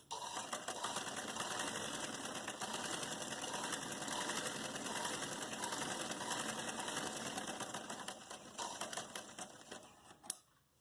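Sewing machine running steadily while stitching a triangle-cut bell sleeve, a fast continuous mechanical whir that holds for about ten seconds before a sharp click and stop.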